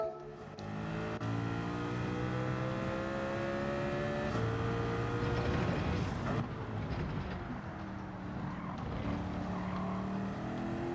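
In Gran Turismo 7, a Mercedes race car engine revs hard in second gear with an automatic transmission on Sardegna Road Track, a loud sustained whine that rises and shifts in pitch, heard alone.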